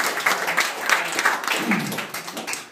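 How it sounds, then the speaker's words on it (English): A comedy club audience at Dick Doherty's claps in a short, steady burst of applause that fills the room and then tapers off. "Can I get a round of applause for everyone that's come before us?"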